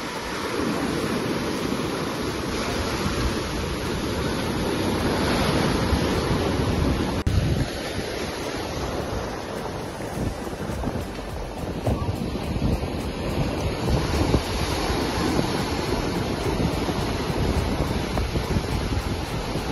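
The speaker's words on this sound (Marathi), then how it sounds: "हे लाट आहेत आणि बघा किती लांब आम्ही समुद्राच्या उभे आहोत." Sea waves at Pirwadi beach in Uran wash steadily and close by in cool, rainy weather, with strong wind buffeting the microphone throughout and no voices.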